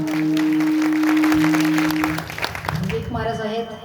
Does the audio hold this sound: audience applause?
yes